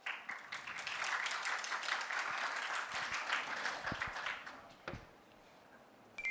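An audience at a startup pitch competition applauds as a presenter with an autonomous-vehicle sensor item is called up, a dense wash of clapping for about five seconds that thins to a few last claps.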